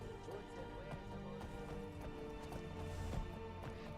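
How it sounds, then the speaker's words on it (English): Hooves clip-clopping as a companion's horse moves along in modded Skyrim, a quick uneven series of soft thuds over a low background bed. "So yeah, that's Uthgerd's horse."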